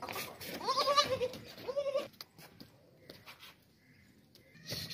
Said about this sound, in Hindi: बहुत ही ज़बरदस्त बेहतरीन बच्चे वाली बकरी है